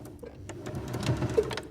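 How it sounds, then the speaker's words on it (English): A sewing machine runs briefly while top stitching fabric, a steady close mechanical whirr with light clatter lasting under two seconds. "Open it out. And then just top stitch"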